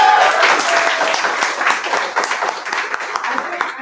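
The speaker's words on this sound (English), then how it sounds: "Can we applaud Neil?" Audience applause for a community member at a success-stories event, a dense run of many hands clapping at steady loudness for several seconds, with voices mixed in.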